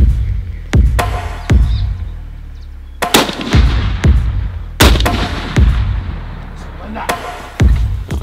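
Rifle shots fired while sighting in for a red stag hunt in Argentina, about eight sharp loud cracks at irregular intervals, each with a short boom and echo tail, under quiet background talk.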